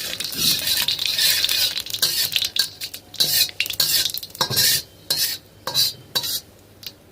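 Bay leaf and cumin seeds tempering in hot oil in a pan, a soft sizzle broken by repeated close metallic scrapes and clinks of a spoon stirring in irregular bursts.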